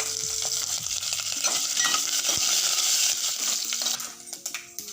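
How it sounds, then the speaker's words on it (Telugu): Curry leaves and chillies hit hot oil for a papaya pickle tempering, giving a loud, steady frying hiss throughout with occasional crackles and pops, easing into fainter spattering at the end. "కరివేపాకు కూడా వేసేస్తున్నాను చూడండి."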